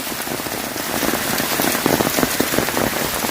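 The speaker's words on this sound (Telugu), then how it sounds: "ఈ వాతావరణంలో వర్షపు నీటి నడుమ, వర్షం నడుమ ఈ అడవిలో" Steady rain pattering through a forest near the Amarkantak waterfalls, a dense, even hiss of drops on leaves and ground that holds constant and close throughout, with no voices.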